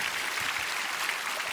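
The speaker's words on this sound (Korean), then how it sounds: "아마 이 방송 오늘 수능 보신 분들 한번 박수 한번 쳐주세요" A congregation at a worship service applauds in a steady, even wash of clapping heard throughout with no voices over it.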